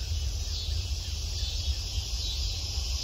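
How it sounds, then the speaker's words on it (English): Cicadas buzz in a continuous, even high-pitched drone at dusk beside a catfishing spot at a solo campsite, steady throughout with a faint low background rumble beneath. "You could hear the cicadas."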